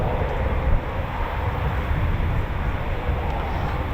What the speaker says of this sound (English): So here we go, taxiing Typhoons just now, here we go.